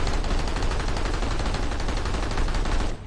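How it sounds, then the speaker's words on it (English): Rapid sustained gunfire from a light assault weapon fired from the hip in Planetside 2, a dense, loud, continuous stream of shots running nearly three seconds before cutting off. "As you can see, huge amount of recoil on this particular weapon. Rapid fire"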